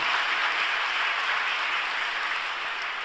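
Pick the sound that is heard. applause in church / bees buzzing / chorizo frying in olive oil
applause in church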